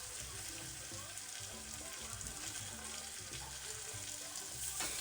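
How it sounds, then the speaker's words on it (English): Beef and tomatoes cooking together in a pot for a Kenyan beef stew, giving a steady close bubbling sizzle with faint low clatter throughout, no voices. "And then I added my tomatoes almost immediately, and I let it simmer for a while"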